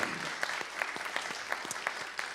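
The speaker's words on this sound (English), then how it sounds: "let's give them a round of applause" A congregation claps for its Helping Hands volunteers, a fairly quiet, thin round of applause with a few distinct hand claps standing out in a loose rhythm from a modest crowd.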